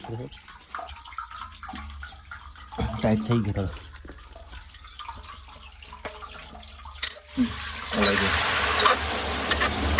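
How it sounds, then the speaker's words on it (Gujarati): Irrigation water gushes into a millet field, released through an opened valve; a steady watery rush builds and grows louder and broader toward the end, with someone talking over it. "અત્યારે પાણી વાળી નાખ્યું છે બાજરામાં"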